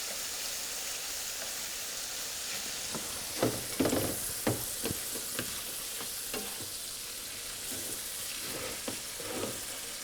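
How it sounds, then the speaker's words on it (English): Calamari strips laid flat in a hot pan sizzle steadily, with a low frying hiss throughout and scattered crackles and pops, some louder bursts near the middle. "you know it's heated because it sizzles"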